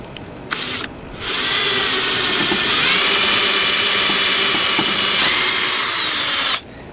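A power drill whirs steadily at high pitch for several seconds after a few short starts, then cuts off abruptly, boring a 3/8 dowel hole during antique chair repair.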